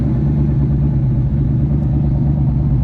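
A Mustang Cobra engine idles with a deep, steady low rumble, close by, with no other sounds.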